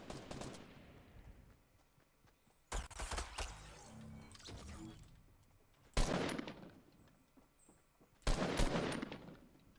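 Sharp bursts of automatic gunfire in the Fortnite video game, four separate volleys spaced a few seconds apart, each a quick rattle of shots fading into quieter game ambience.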